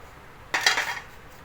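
Semolina and rice flour being mixed in a bowl with a spoon, a single short burst of scraping and clinking lasting about half a second, fairly close and otherwise quiet.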